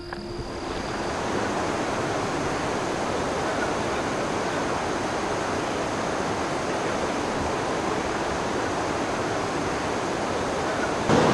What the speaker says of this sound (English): there was a typhoon recently and the river just there is raging